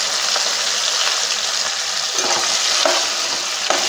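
Masala paste frying with drumstick pieces in a pan, a steady broad sizzle with a few soft stirring scrapes, close and continuous, no voices.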